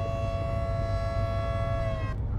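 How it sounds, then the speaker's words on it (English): A civil defense style siren in the video game Volcanoids wails steadily with layered harmonic tones, loud and continuous, then cuts off abruptly near the end. "the second we're underground, the sirens will stop"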